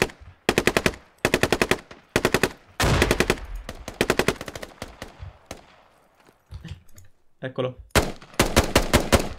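Video game gunfire from a sniper-style shooter: sharp rapid bursts of automatic fire in repeated volleys, loud and close, with someone speaking briefly between shots.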